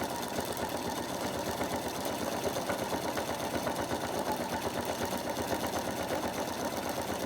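A sewing machine runs continuously while stitching applique fabric for a beach huts picture, with a fast, even mechanical needle rhythm at moderate-to-low loudness and no pauses.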